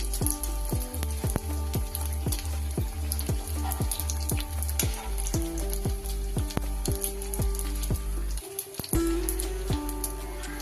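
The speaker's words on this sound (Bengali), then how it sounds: "এভাবে আমি সব ফুচকাগুলো এক এক করে ভেজে নিই।" Fuchka puris of rolled dough frying in hot oil one at a time, a bubbling sizzle punctuated by a rapid series of sharp pops and crackles, steady throughout.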